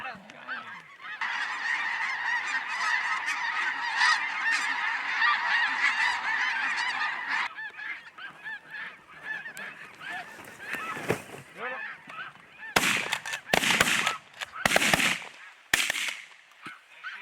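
Snow geese honking during a goose hunt in Saskatchewan, a dense continuous chorus of many calls for several seconds, then thinning to scattered honks, with sharp loud bursts like gunshots near the end.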